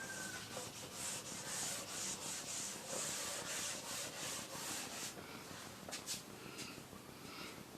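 A classroom board being wiped clean of writing, heard as a steady, soft scratchy rubbing that goes on continuously with brief faster strokes near the end, and no talking.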